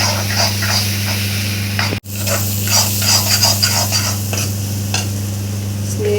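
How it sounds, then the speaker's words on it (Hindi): Turmeric, coriander and chili powder masala frying in a pan for a chicken egg curry, a steady close sizzle with scraping stir strokes and a brief sharp knock partway through. "ये डाल दिया हमने हल्दी पाउडर, धनिया पाउडर, मिर्च पाउडर और पूरा अच्छे से मसाले को फ्राई कर देंगे झटपट से।"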